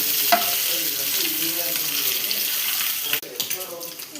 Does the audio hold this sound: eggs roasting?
yes